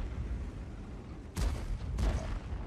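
Tank cannon fire from an AMX 50 100 in a tank combat video game, two booming shots about half a second apart over steady low rumbling background noise.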